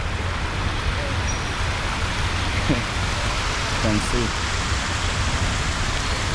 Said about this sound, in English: that is how it looks like when it rains in Kisi.